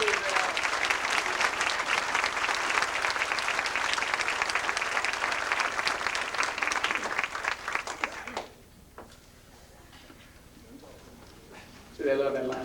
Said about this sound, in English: give another solid round of applause for these people